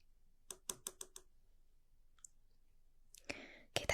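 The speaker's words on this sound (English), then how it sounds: "So I have this pair of scissors." Metal scissors snip and click in an ASMR face-reconstruction roleplay, five sharp close clicks in quick succession, then sparse softer ticks and a burst of crisp rustling and snapping near the end.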